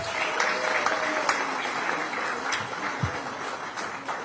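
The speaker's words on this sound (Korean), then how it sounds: "큰 박수 한번 주시기 바랍니다." Steady applause from the audience at a Democratic Party leadership meeting, a dense, even patter of many hands clapping throughout, somewhat distant and moderately soft.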